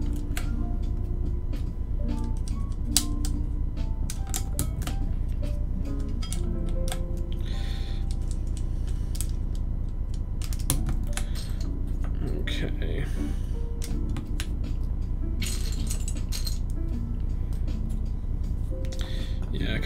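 Plastic keycaps pressed onto a mechanical keyboard build, a Honeyboard, giving scattered short clicks and taps at irregular intervals over steady low background hum.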